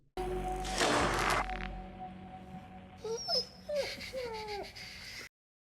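A dog whimpers in a few rising, whining cries, close by, after a burst of louder noise at the start.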